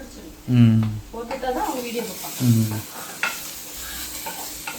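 Sautéing in a pan while making a prawn dish, soft sizzling and frying under a stirring spoon, with a couple of louder tonal bursts and some faint voices in the background.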